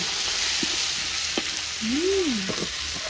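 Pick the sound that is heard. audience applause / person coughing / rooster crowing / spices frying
spices frying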